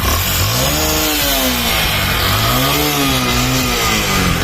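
A motorcycle engine running on a mixed petrol, diesel and kerosene fuel starts and revs loudly and up close, its pitch rising and falling in uneven swells over a harsh, noisy drone.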